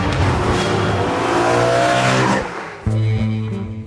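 New BMW M3 engine accelerating hard: a loud, close roar rising in pitch, then a drop and a fresh steady engine drone after a gear change, with faint tire noise.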